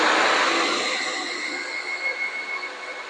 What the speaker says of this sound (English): I'm going to turn the vacuum back on.